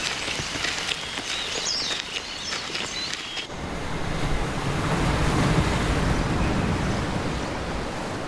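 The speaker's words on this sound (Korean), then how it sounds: "파도 소리 잘 들려요?" Ocean waves surge and wash in a continuous roar, loud and close, with wind buffeting the microphone and the surf swelling stronger partway through.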